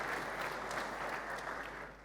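Steady audience applause at CloudFest 2023, a tech conference session, filling the room evenly for about two seconds and tapering slightly at the end, with no voices.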